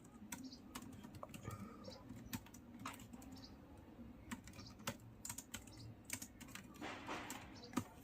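Java code typed on a computer keyboard in quick irregular bursts of crisp key clicks, close and fairly quiet against a low background hum, with no talking.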